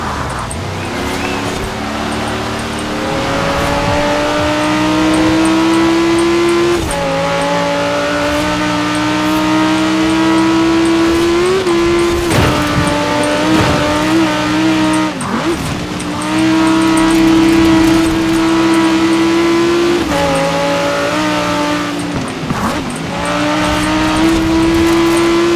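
Supercars racing in Forza Horizon 4, including a Lotus, Ford GT, Porsche and Ferrari, with loud sustained engine drones that rise and fall through gear shifts and revs, close and continuous.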